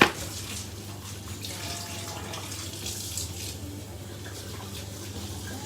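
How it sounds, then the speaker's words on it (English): Tap water runs steadily into a sink while raw meat for biltong is rinsed, a continuous close splashing stream with no talking. "Give it a quick rinse."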